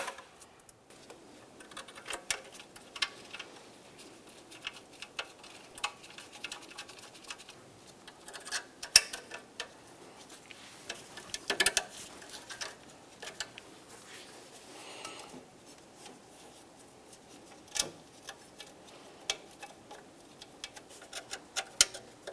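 A ratchet clicks in quick, faint bursts of ticking while someone snugs the exhaust manifold mounting bolts on a 2006-2011 Honda Civic. Short pauses separate the bursts, and no one talks.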